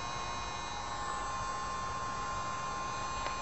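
A small battery-powered disco light projector runs with a steady, quiet electrical hum and buzz, faint and constant throughout, with no voices.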